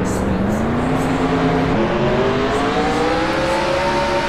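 Race car engines in a Roblox NASCAR downhill race game whine steadily and loudly, pitch climbing gradually as the cars accelerate, a continuous close roar throughout.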